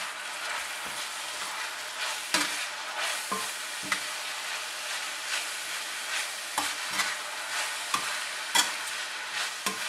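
Shredded potatoes stir-fried in a wok for hot and sour potato shreds, a steady broadband sizzle broken by sharp scraping clacks of the spatula at irregular intervals, close and moderately loud with no voices.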